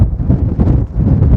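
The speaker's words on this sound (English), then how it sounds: "It's still really windy, and it's kind of raining on and off" Strong gusty wind buffets the microphone on an exposed hillside on a wet day, a loud continuous low roar with rustling.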